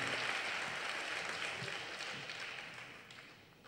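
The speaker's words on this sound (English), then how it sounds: "Please give one more round of applause." Faint, distant audience applause at a Carnatic classical concert during Bharat Sangeet Utsav 2016, a soft continuous patter that gradually fades away.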